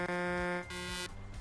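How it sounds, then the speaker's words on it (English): Two short, flat electronic truck horn honks in Euro Truck Simulator 2 sound one after another, buzzy and tonal, fairly quiet, followed by a brief lower beep. "We are beeping at each other"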